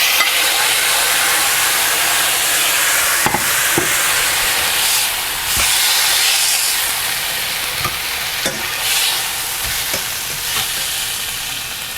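Steaks searing fast in a hot pan with seasoned juices, a loud steady sizzle and hiss filling the whole stretch, with a few sharp crackles and spatters popping through.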